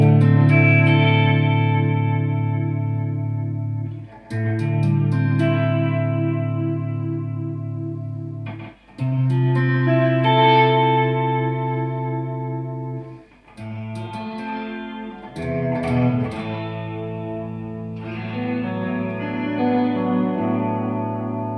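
Sustained guitar chords played through a Strymon Volante magnetic echo delay pedal, several strummed chords ringing out with repeating tape-style echoes and a wide, lush tail, loud and alone with no talking.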